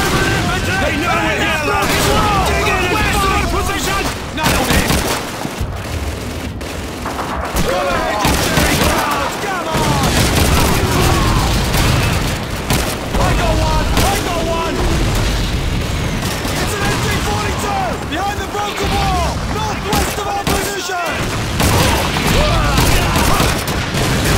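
Call of Duty 2 battle at Caen: dense rifle and machine-gun fire crackles loud and nearly nonstop, with bursts and booming impacts, while soldiers shout over the gunfire.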